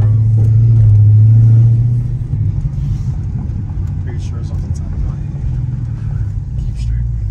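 A Dodge Charger Scat Pack fitted with a starlight headliner fires up with a loud, deep rumble that settles into a lumpy idle, heard close from inside the car while someone talks over it.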